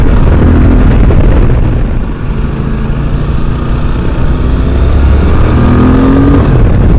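A QJ Motor SRT 800 twin-cylinder motorcycle engine held at high revs, producing a loud, continuous, close droning roar that dips briefly and then climbs steadily, with no talk over it.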